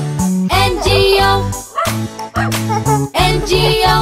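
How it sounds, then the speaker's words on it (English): A cartoon dog barks and yips in rhythm through a children's nursery rhyme song about a farmer's dog, its loud, repeated calls riding over a bright, steady musical backing. "There was a farmer had a dog and Bingo was his name-o."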